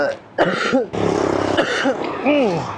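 A short burst of rough coughing and throat-clearing up close, a few harsh hacks in quick succession with a strained, voiced edge.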